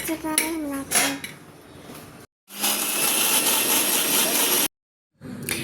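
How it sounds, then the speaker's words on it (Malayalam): An electric mixer grinder chops onion and tomato. A voice and kitchen clatter come first, then the motor whirs loudly for about two seconds, cuts off, and starts again briefly. "അത് നമ്മൾ മിക്സിയിലിട്ട് ഒന്ന് അരച്ചെടുക്കും"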